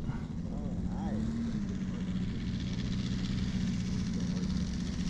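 A giant Top Flite P-47 Thunderbolt RC plane with a Saito FG60R3 gas radial engine flies on its maiden flight, a steady droning engine hum throughout with a slight pitch rise and fall as it passes.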